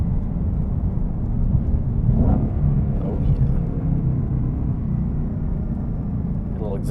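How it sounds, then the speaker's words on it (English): A 2021 Shelby GT500 supercharged V8 rumbles with a steady low exhaust drone and faint supercharger whine, heard from inside the car on open desert roads, with a person speaking briefly over it. "A little exhaust and supercharger on that one."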